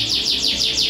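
Canaries in a breeding room trill in a rapid, repeating series of high descending chirps, loud and close, with no one speaking.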